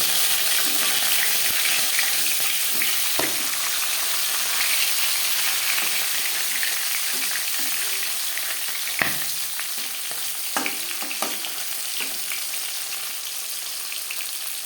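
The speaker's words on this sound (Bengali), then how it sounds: "মাছ এক পিস ভাজা হয়ে গেছে অপর পিস তুলতে দেবো" Foli fish frying in hot oil in a pan gives a continuous bright sizzle with occasional pops and crackles, close and steady throughout, with no talking.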